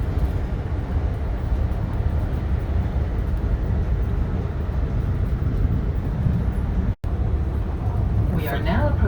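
Steady low rumble of a UP Express train interior on the ride toward Union Station in Toronto, a continuous broadband roar with a brief dropout near the end and faint chiming or squealing after it.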